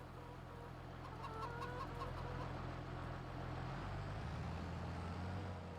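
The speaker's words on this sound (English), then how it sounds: "Hello, little chickens." Farmyard chickens in the game My Life in Riverbend cluck softly in short, scattered bursts over a constant low background hum, faint and somewhat distant.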